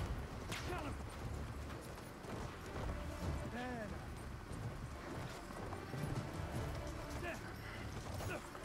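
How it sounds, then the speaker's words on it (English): Horse hooves clip-clop at a trot in a Battlefield 1 match, with distant gunfire and game noise around it and a person talking over it. "Get it, Foxtrot, because I'm trotting on a horse."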